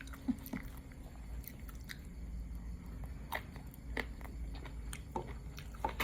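Crunchy chewing of spicy Thai seafood salad with very crispy squid tentacles, close up, with repeated crisp bites and chews alone in a quiet room.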